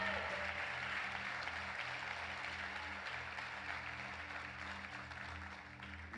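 A church congregation applauding together, a sustained wash of clapping that fades slightly toward the end, with a low musical drone and faint voices underneath.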